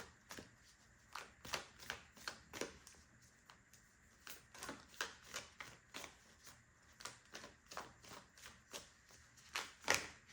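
Rapid riffling bursts repeat in an irregular rhythm, crisp papery flutters close by, like a deck being shuffled again and again with brief pauses.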